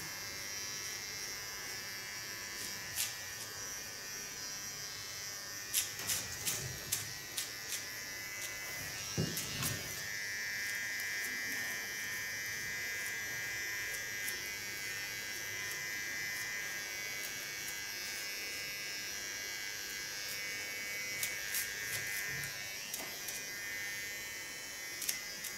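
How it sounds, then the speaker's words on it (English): Small electric hair clipper trimming a short autumn pixie cut, a steady quiet buzz running throughout with light snipping clicks, soft and close with no talking. "clean this up with a clipper and then get started with coloring"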